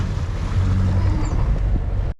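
Boat diesel engine pushed to higher revs while cruising from Bribie Island to Garrys Anchorage, a loud steady low drone blended with wind and water rush, cutting off abruptly at the end.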